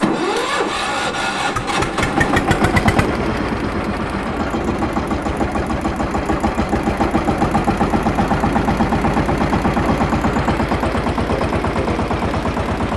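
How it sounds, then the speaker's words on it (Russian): A Scout T-18 18 hp diesel tractor engine cranks for a couple of seconds, catches, and settles into a loud, close, evenly pulsing chug that continues without talk. "Открываем декомпрессионный клапан и заводим."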